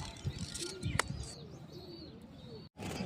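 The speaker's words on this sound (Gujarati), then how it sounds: "અને જો બધા કબૂતર રખડવા લાગ્યા અહીંથી અહીં" Pigeons wander about outside their coop, cooing in low, rolling repeated calls close by, mixed with a few thin chirps and wing or foot rustles, before a short cut and a brief return of sound.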